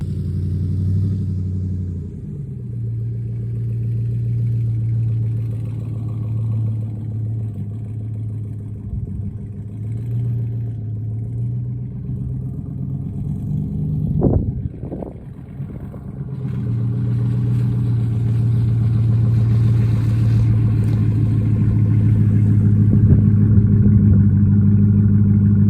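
Chevrolet Silverado pickup engine running steadily with a low, loud rumble, dipping briefly with a couple of clunks midway before settling into a strong, sustained drone while pushing a 1972 car.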